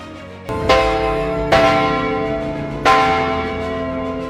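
Big Ben, the great bell in London, strikes three times at a slow, uneven pace, each loud stroke blooming into a long ringing hum that decays under the next blow.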